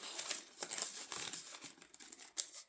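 Paper crinkling and rustling as cash is slipped into a paper envelope, soft close handling sounds in short irregular bursts with no talk.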